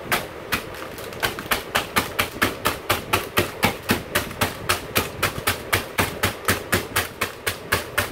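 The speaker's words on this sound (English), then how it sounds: "now I must coarse crush my croutons" Repeated sharp thuds of a hammer crushing croutons in a steady rhythm, roughly three blows per second, close and crisp, with crunching between strikes.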